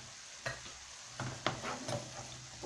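Onions and peppers frying in a pan for potato chakchouka, a soft steady sizzle with a few louder clinks and stirring scrapes at intervals, close and quiet with no talking.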